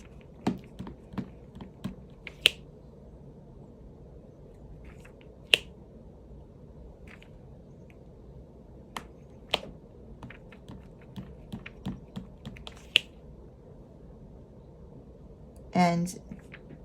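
Plastic diamond painting drills snapping one by one into the adhesive canvas while a straight row of squares is filled, giving sparse sharp little clicks scattered over a quiet background, with a short rustle near the end.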